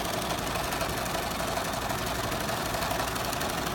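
A sewing machine runs steadily, top stitching around the strap of an apron, a continuous mechanical whir with a fast, even rhythm and no voices.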